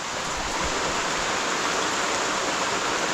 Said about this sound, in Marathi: मस्त पडतोय पाऊस मात्र छान एकदम पाऊस सुरू झाला गावाकडे